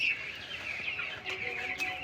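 Broiler chickens on a poultry farm cluck in a steady, overlapping chorus, close and moderately loud, with a few sharper calls standing out and no talking.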